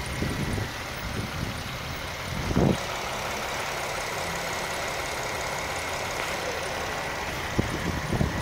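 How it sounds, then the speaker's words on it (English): A 2009 Infiniti G37 S with a V6 engine idles steadily and evenly at moderate distance, with a couple of brief knocks or clicks over the low, constant hum. "It does have a V6 engine."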